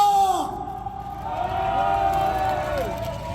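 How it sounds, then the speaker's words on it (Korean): A protest rally crowd against the POSCO chairman shouts and cheers loudly together, a sustained massed roar of voices with a rising, ringing tone running through it. "목이 터져라 함성을 저질러 봅시다"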